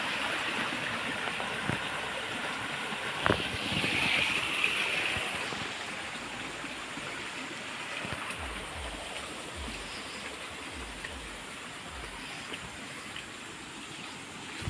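Rainwater rushes strongly through a farm field after a heavy downpour, a steady nearby flowing wash with faint low rumbles and a brief thump.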